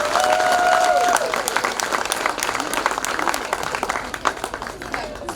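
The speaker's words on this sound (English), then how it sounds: "So can you please give a big round of applause?" Audience applause at a school annual day, lively scattered clapping with a brief sustained tone and some voices mixed in early on, tapering gradually.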